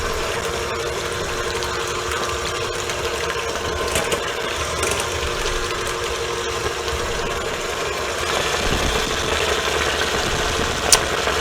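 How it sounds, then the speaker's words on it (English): An electric mixer whirs steadily, beating four egg whites for a lighter chocolate mousse meringue, its continuous motor hum running near and loud throughout and rising slightly as the speed increases toward the end. "now we're going to beat it up like we do for meringue. Increasing the speed."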